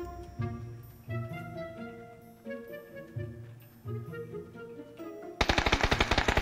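Rapid automatic gunfire in the shooter game PUBG bursts in loud and dense near the end, following a stretch of tonal game music and effects.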